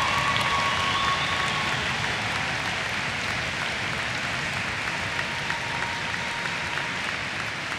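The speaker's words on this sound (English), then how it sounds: "Can I ask you to spend the next 10 seconds stamping your feet and clapping for all the graduates today who have come through?" Graduation ceremony audience clapping and stamping their feet, a dense, steady roar of applause with thumping that fills the hall throughout without letting up.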